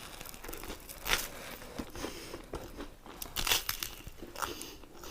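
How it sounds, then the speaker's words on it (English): Crisp, repeated crunching bites into super-crispy Texas toast, close to the mic, with irregular crackly bursts of chewing and biting, louder around the middle and end, and no talking. "We got some Texas toast. This one's super crispy."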